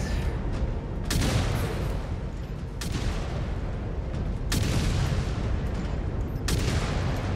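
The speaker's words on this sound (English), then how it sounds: "So all I do is fire my SRMs." MechWarrior 5 Clans mech firing SRM missiles, several sharp volleys bursting out at intervals over a constant rumble of combat noise, loud and close.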